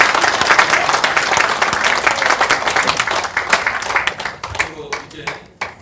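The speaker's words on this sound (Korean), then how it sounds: "박수 다시 한번 박수." Audience applause and clapping at a Korean screening and Q&A event, a dense, loud burst of many hands that thins into scattered claps toward the end, with a voice speaking over it.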